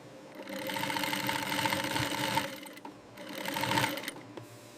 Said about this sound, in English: Leather is sewn together to form the final product.